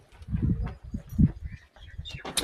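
Pigeons coo at a temple in soft, low, repeated throaty calls close by, with faint background rustling and a few brief higher sounds.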